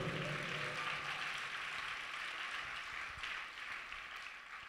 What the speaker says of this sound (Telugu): అందరూ చప్పట్లు కూడా దేవుడు మహిమపరుద్దాం.